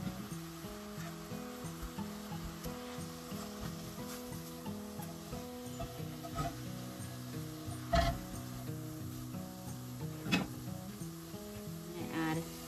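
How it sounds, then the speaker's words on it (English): Spinach slowly cooking and wilting down in a pan for a creamy butternut squash sausage pasta, a quiet low sizzle with a faint steady hum and a couple of brief clinks. "We're going to let that slowly cook until it gets wilted down"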